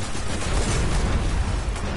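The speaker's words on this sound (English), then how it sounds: "These explosive tanks are a bunch of bullshit." Explosive tanks blow up in the shooter game Destiny, producing a loud, continuous rumbling blast with crackling debris that fills the whole moment without any voices.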